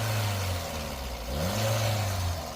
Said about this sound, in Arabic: طبعا صوت المحرك نغمته ما هيش مليحة